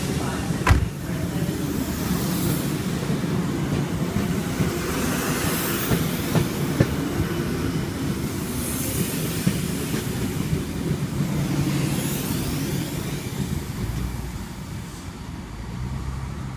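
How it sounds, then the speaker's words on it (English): A Sydney Trains S set pulls into Penrith station with a sustained rumble and rolling wheel noise, sharp clacks near the start, and whooshing swells as carriages pass close by, fading slightly near the end. "Oh, there's an S set arriving."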